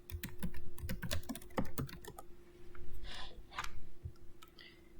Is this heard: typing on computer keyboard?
yes